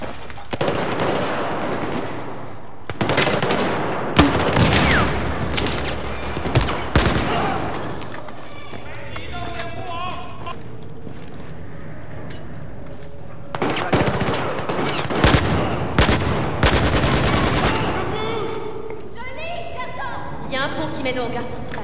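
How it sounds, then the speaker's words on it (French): In Battlefield 4, an M16 rifle fires in repeated loud bursts during a fight in Singapore, with rapid cracking volleys separated by short pauses amid game noise. "J'aime pas ce M16 là parce qu'il est en rafale"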